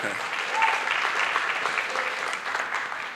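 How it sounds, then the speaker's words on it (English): Applause from an audience at a high school senior honors and military recognition ceremony: a short, dense, steady burst of clapping from many hands, fairly close and full. "give yourself a round of applause for being here"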